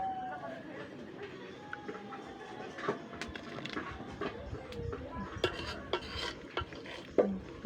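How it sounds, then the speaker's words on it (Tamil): A spoon stirs moong dal soup in a cooking pot, faint scraping and light clinks of metal against the pot in an irregular rhythm, quiet and close with some background noise. "கிளறி விட்டுக்கலாம்."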